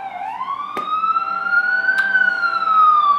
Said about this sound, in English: This better be very important for these ambulances to be going by.